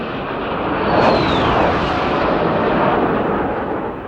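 A Sukhoi Su-25 attack jet passing overhead, a loud, broad jet roar that swells to a peak and then slowly fades, with a falling whine as it goes by.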